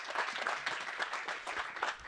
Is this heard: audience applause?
yes